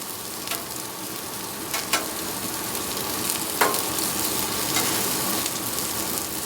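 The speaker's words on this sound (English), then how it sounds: "I want to put the mushrooms on just for a little bit" Mushrooms frying on a Griddle Master Top griddle give a steady, close hiss of sizzling fat, with a few sharp scrapes and taps from a spatula along the way.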